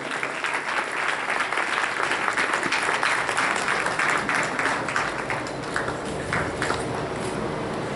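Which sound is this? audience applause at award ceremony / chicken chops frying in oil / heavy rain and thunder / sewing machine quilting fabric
audience applause at award ceremony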